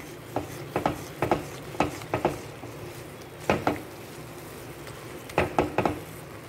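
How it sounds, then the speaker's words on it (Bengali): A spoon scrapes and taps against a pan as pointed gourd dolma filling is stirred and sautéed, giving clusters of sharp clacks over a low, faint frying hiss, close by with no talk. "এটাকে আমি ভালো করে নাড়িয়ে চাড়িয়ে এটাকে ভালো করে কষিয়ে নেব"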